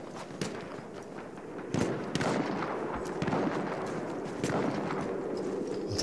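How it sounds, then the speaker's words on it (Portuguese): Battlefield 1 combat brings a grenade blast and gunfire, with a heavy thump and repeated sharp reports scattered through dense, noisy battlefield ambience. "Ele tentou jogar aquela granada."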